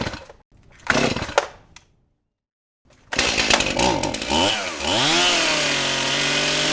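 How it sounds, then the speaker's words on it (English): A STIHL MS291 chainsaw cuts into a young maple tree whose top was broken off in a windstorm. Some rustling and a short silence come first, then the saw roars in loud and close, its engine pitch rising and falling before it holds a steady high drone. "Chainsaw model MS291."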